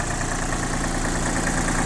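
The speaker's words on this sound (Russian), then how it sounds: "Работает трехцилиндровый мотор Исеки ровно и очень хорошо." An Iseki TU165 tractor's three-cylinder engine idles steadily nearby, a loud even rumble with no voices over it.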